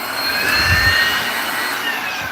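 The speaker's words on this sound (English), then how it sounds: "Then we hit it with the blower." A blower roars steadily at close range, blowing out debris during removal of old carpet, a continuous airy whine with a low rumble and no pauses.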